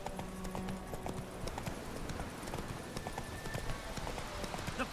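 In The Witcher 3 video game, the horse Roach walks along with steady, close clip-clopping hooves, a continuous rhythmic beat over a busy background of ambient game noise.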